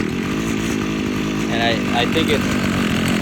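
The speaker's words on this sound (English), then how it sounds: "as soon as you try to throttle, it starts bogging down." An old abandoned weed eater's small two-stroke engine buzzes loudly and unevenly, sagging as it is throttled, while someone talks over it.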